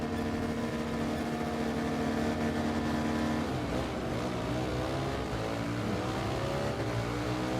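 Motorcycle engine in the racing video game Ride 3 droning steadily and loud with tonal harmonics, pitch shifting and rising as it revs midway, no voices.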